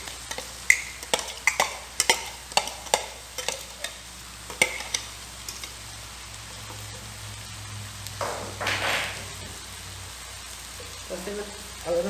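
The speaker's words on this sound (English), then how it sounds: "So in here I have onion, scallion and garlic. So I'm going to just toss that in." Chopped onion, scallion and garlic go into a frying pan as a quick series of sharp clacks and scrapes from stirring, then a soft, rising sizzle as they cook, close by, with faint speech near the end.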